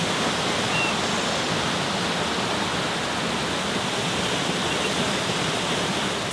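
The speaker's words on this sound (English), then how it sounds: "we made it to the Donut Fall, and the reason why it's called a donut is because, well, it's water falling into a round hole" Donut Falls in Utah, water plunging through a round rock hole, a steady, loud, broadband roar of falling water with no break across the whole stretch.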